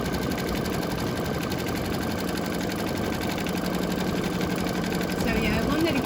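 An embroidery machine stitches a coaster, a continuous rapid mechanical whir and needle patter running steadily throughout, with a faint voice murmuring near the end.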